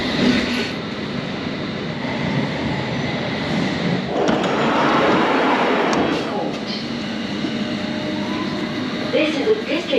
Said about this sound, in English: This is a District Line train to Richmond.